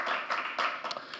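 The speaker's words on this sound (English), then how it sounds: "Let's give them a round of applause" Applause from a conference audience after a distinguished panel is introduced: a short burst of dense clapping with a few sharper claps, fairly close and steady throughout.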